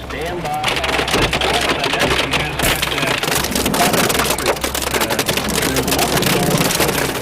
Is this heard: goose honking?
no